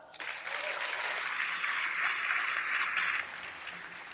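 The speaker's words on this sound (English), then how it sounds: "Let's give him a round of applause." An awards ceremony audience breaks into a short, continuous burst of applause, holding at an even moderate level for about three seconds before thinning out.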